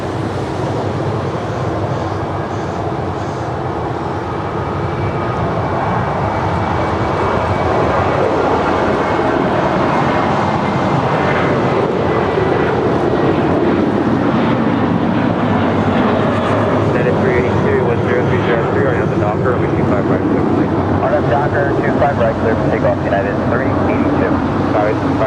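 Alaska Airlines jet with a special livery at LAX, engines howling and roaring in a loud, steady broadband rumble that swells and holds for the whole stretch, with a voice talking over it.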